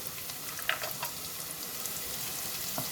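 Leftover vegetables frying in a pan for street-style Manchurian, a steady hissing sizzle with a few brief pops and stirring clinks, close and continuous.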